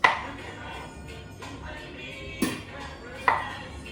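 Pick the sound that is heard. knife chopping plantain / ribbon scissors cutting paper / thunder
knife chopping plantain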